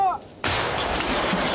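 A single loud, booming howitzer blast erupts after a brief quiet, its roar and rumble sustaining and echoing for over a second.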